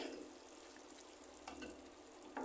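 Chicken pieces frying in a pan, a soft steady sizzle with faint stirring clinks, quiet and close, no talking.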